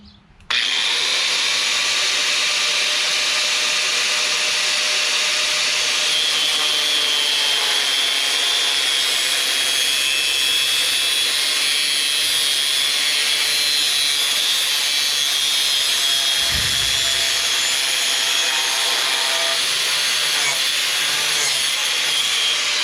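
Sustained grinding-saw cut through the metal muffler of a Toro LX460 lawn tractor with a Kohler Courage engine, made at 90 degrees: a loud, steady abrasive whine running nearly the whole time without pause.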